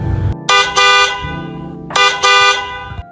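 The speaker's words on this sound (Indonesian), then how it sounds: "Klakson terdengar" Car horn honking in a town street: two pairs of short, loud, close beeps separated by a brief pause, with engine rumble underneath.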